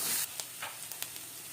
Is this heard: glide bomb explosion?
no